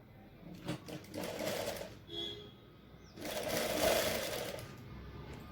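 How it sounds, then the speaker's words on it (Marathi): A sewing machine stitching patchwork pieces for a blouse runs in two bursts, a short one and then a longer steady whirr, separated by a brief quiet pause, close and fairly soft. "आता आपण इथं टिप टाकणार आहेत"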